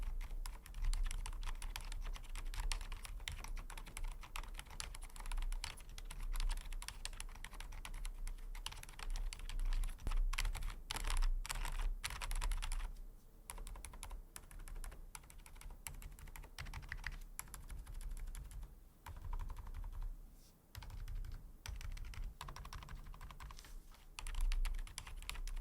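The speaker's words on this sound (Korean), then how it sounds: "이 스위치는 저소음 타입이라 타건음이 확실히 조용하고" Steady, continuous keystrokes on a split keyboard fitted with quiet low-noise switches, muted and close, with brief pauses in the rhythm and no voices.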